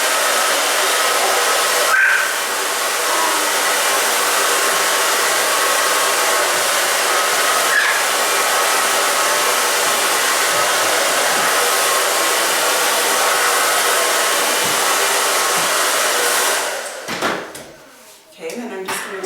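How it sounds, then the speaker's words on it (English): A hair dryer running on a little girl's hair while a round brush works through it, a loud continuous close blowing roar that cuts off near the end, followed by brief handling clatter. "you can round brush it, and so that's what I'm going to do for Olivia today."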